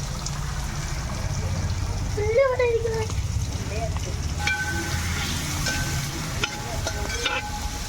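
Chopped onions, four medium ones, frying in plenty of oil in a traditional uruli pan for Kerala beef roast, giving a steady close sizzle broken by a few stirring scrapes and clinks.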